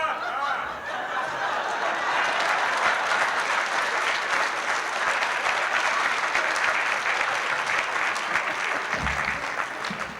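An audience applauds steadily and warmly for about ten seconds, a dense, sustained clapping with a few chuckles mixed in.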